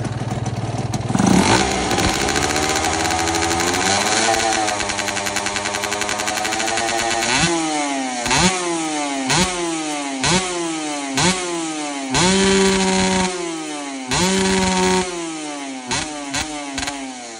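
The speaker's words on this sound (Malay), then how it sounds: "Boleh dengar punya engine." A Kawasaki RR 150 two-stroke motorcycle from 2014 idles roughly, then revs up and down in a series of throttle blips, loud and close.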